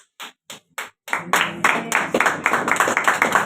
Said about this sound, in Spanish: Gracias por ese aplauso para mí.